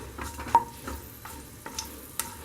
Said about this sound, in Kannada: ಗೋಡಂಬಿ ಸ್ವಲ್ಪ ಫ್ರೈ ಮಾಡ್ಕೊಳ್ಳಿ.